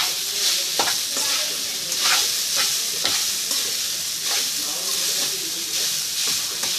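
Cooked rice being stirred into a hot tempering in a pan for wamu rice, with steady sizzling and repeated scraping stir strokes close up, continuous throughout.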